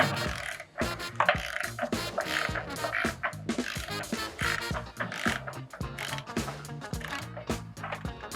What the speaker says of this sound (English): I'm gonna put the smaller ratchet back on